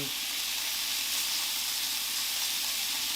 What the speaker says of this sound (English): getting a good sear on your meat